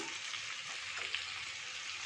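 Soft, steady sizzling of a cumin, ginger and dried red chilli paste frying in hot oil in a pan, continuous and fairly quiet, with no voices.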